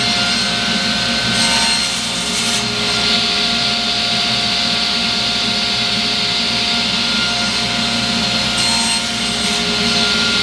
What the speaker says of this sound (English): So these dowels that are in the blocks, I can cut them